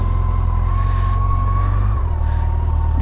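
Yamaha FJR1300 motorcycle ridden along a residential street, a steady low engine drone close by with a brief dip in revs near the end.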